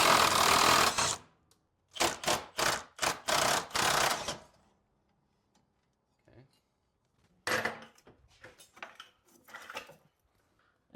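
Mechanic unbolting the trailing arm bolts on a BMW E36 rear subframe: a dense run of sharp, loud ratcheting bursts, then quiet, then scattered clinks and rattles of tools and metal close by.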